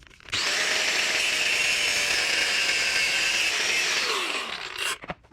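A power tool cutting an exhaust pipe short during a budget exhaust build for an RX-8 with a V8 3UZ swap: a loud, continuous high-pitched grinding whine for about four seconds, then spinning down.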